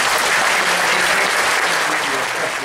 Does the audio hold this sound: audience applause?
yes